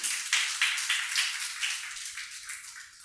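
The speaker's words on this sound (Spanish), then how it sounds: "Le damos un fuerte aplauso al Señor." A church congregation claps together in praise, a steady run of dense, rhythmic applause that carries on throughout with no talk over it.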